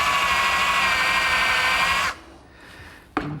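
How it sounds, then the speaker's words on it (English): A power drill with a countersink bit whines at a steady high pitch while cutting a screw-head recess in a brass ring for a croquet set, then stops abruptly, followed by a short bump. "I'm going to switch to this countersink to make a recess for the screw head."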